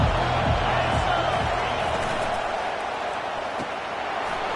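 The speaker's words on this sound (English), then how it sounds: "this crowd is turning it up a notch" Large football stadium crowd at an SEC game against Texas, a dense roaring wash of noise that stays loud and sustained throughout, with a few low thumps underneath.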